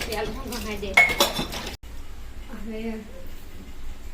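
Dishes clatter and cutlery clinks as they're handled and washed, with people talking over the clattering throughout.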